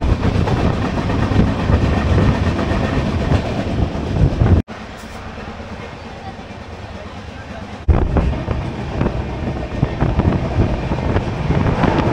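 The 15961 Kamrup Express rolls along from Kolkata toward Bandel with a loud, steady rumble, rhythmic clickety-clack of wheels and wind buffeting the microphone, broken by a brief cut near the middle.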